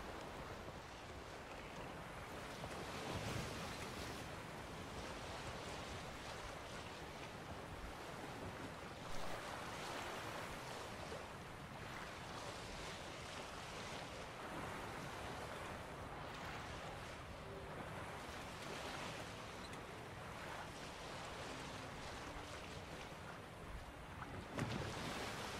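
A ship sailing on open sea waves near Skellige in The Witcher 3: Wild Hunt, with a steady wash of water and wind rushing past, faint and continuous throughout, with occasional slightly louder splashes.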